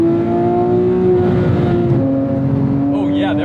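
A Porsche 997 GT3 engine drones loudly from inside the cabin, holding a steady high rev that drops slightly as the revs shift, with constant road and engine noise throughout.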